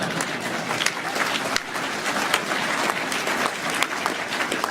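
Conference hall audience at a Scottish National Party spring conference breaking into sustained, dense clapping that fills the room evenly for several seconds, with no voices rising above it.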